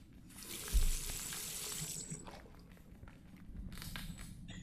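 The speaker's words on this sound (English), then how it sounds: "All that remains is to rinse the plate." Water runs over a photographic plate in The Last Door, a continuous splashing rinse like a tap running that starts soon after a thump, fades, then returns briefly.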